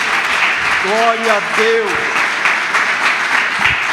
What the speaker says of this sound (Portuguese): Você pode aplaudir o nome dEle, porque Ele é poderoso.